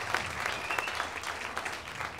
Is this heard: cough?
no